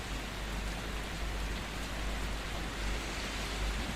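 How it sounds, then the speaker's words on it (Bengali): Artificial rain falls at a hotel in Muscat, a steady dense patter of drops on surfaces, even and moderately quiet throughout with no voices. "বৃষ্টির ফোঁটায় সেই টুপটাপ শব্দ"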